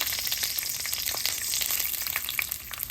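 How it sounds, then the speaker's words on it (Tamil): Mustard, fennel and fenugreek seeds tempering in hot oil for a pumpkin and lentil curry, giving a steady close sizzle with scattered crackles and pops and occasional stirring, with no voices. "கடுகு பெருஞ்சீரகம் வெந்தயம் தாளித்து கொள்ளுவோம்"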